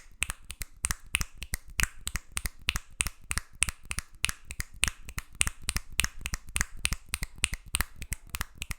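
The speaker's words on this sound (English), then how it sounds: "Jordan once again for a finger snap record, but this time for the fastest snaps in one hand" Rapid finger snaps made with one hand for a speed record, a fast, sharp, evenly spaced run of crisp cracks, close and alone for about nine seconds.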